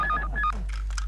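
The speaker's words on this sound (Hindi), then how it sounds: "वहां से दिलरुबा का फोन आ रहा है" Telephone keypad dialing tones at close range, a quick run of short electronic beeps lasting about a second, heard indoors.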